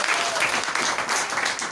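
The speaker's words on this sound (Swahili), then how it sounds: "Mpe Yesu makofi mazuri unaposimama" A church congregation applauds during a worship service, giving sustained, fairly close clapping from a crowd that continues through the moment.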